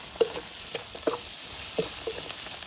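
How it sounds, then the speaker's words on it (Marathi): Onions fry in a pan over a wood-fired stove, a low steady sizzle broken by a few light scrapes and taps from stirring, close and quiet, no voices. "तर आता कांदा चांगला परतून घ्यायचा आहे"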